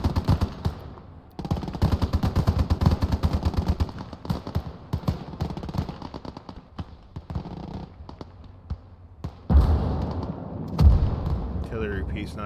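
Machine-gun bursts and rattling gunfire with occasional heavy artillery booms in the WWII tactical game Gates of Hell: Ostfront, at a night battle near Nevel; the fire is dense and continuous, with louder thumps near the end.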